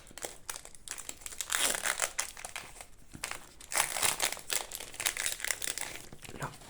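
Crinkly plastic wrap crackles and tears as a Pokémon Elite Trainer Box for the Flammes Fantasmagoriques set is unwrapped, with close, loud bursts of crumpling in two main waves and no talking.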